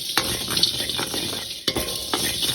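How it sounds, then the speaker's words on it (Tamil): Turmeric and garlic dry-roasting in a pan, stirred with steady scraping strokes over a continuous dry rustle, a few sharper scrapes standing out; no talking. "இப்போ இதை வறுத்தெடுப்போம் கருக விடக்கூடாது"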